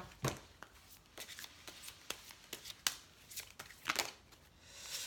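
A deck of tarot cards shuffled by hand, giving soft, close riffling and flicking that repeats steadily over a faint room hush.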